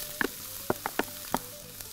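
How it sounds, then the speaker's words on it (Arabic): Coarse minced meat frying with onion in oil and ghee, giving a soft sizzle broken by several sharp stirring knocks and clinks of a spoon against the pan, close by. "بعد ما حطينا البصل هنحط اللحمة مفرومة خشنة"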